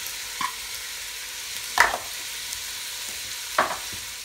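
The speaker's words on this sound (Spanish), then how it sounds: "Se ponen los vegetales del mirepoix para que se vayan haciendo despacito" Mirepoix vegetables for minestrone sautéing gently in a pot: a soft, low sizzle running underneath, broken by three short scraping stirs of a utensil.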